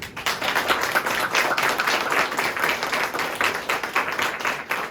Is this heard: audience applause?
yes